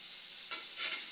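Takway (taro runners) being sautéed in a pan, with a soft steady sizzle and two brief stirring scrapes over it.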